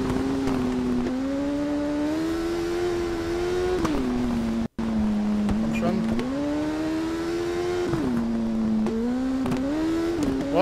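Motorcycle engine in TT Isle of Man racing game wailing at high revs, pitch climbing and dipping through gear changes with a brief cutout midway, while someone talks over it.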